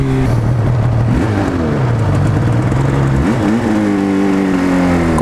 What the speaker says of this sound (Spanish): Coche de la Ertzaintza.